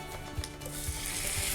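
Pieces of lamb for a curry hit about a tablespoon of hot oil in a pan, giving a faint, steady sizzle with a few soft knocks from stirring and handling.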